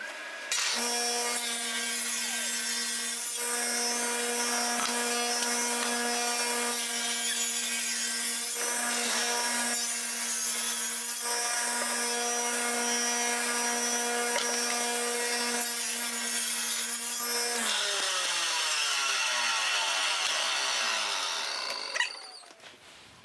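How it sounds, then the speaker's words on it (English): Power tool, likely a router, chamfering the bottom edges of a wooden cutting board at 45 degrees, a steady loud high whine cutting continuously for about eighteen seconds before the motor spins down. "I'm gonna chamfer these bottom edges on 45."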